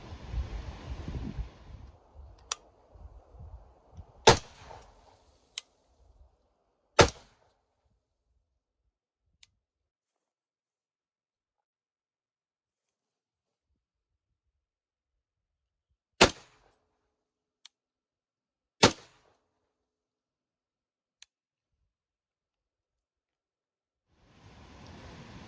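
A .308 rifle fired several times, first without and then with a blast jacket fitted: sharp, isolated cracks spaced seconds apart over light wind noise, with some handling rumble early on.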